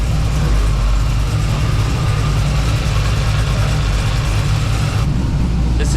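The supercharged LS3 V8 in a slammed '72 Chevy C10 runs loud on a dyno, a heavy, steady low rumble with a dense roar above it and a slight change in pitch near the end.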